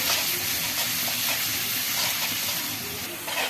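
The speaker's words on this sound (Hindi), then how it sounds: "तो इस तरह से थोड़ा फैलाते हुए हमें फुल फ्लेम पे ही इसे फ्राई करना है।" Potatoes for aloo bhujia fry on full flame in a pan, giving a dense, continuous close-up sizzle with faint stirring scrapes throughout.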